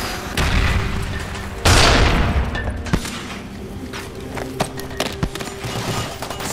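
A frag grenade goes off in Call of Duty: Black Ops during a Search and Destroy match, one loud booming blast that rumbles and fades, followed by scattered distant gunshots and game noise.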